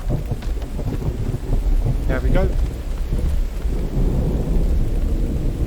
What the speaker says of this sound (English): I love the rain and I love the sounds of thunder